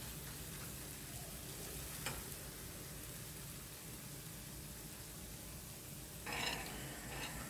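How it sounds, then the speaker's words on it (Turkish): A quiet, steady sizzle rises from a pot of Turkish red lentil soup as a hot sauce is poured in, with a brief spatter near the start and a louder hissing burst toward the end. "Şimdi sosumu ilave ediyorum."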